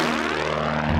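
Engine of a homebuilt propeller airplane, built in a home garage and first flown in 1988, droning loud and steady close by with a constant hum, shifting briefly near the end.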